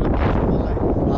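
Wind blows across a microphone on a hiking trail in eastern Nepal, a loud, dense, continuous rumbling buffet with no clear breaks.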